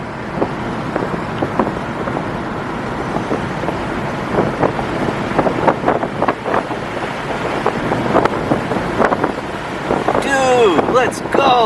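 A 2007 Honda Civic Hybrid with a dual spark plug engine cruises at freeway speed, giving a steady roar of road and wind noise inside the cabin while voices talk excitedly over it.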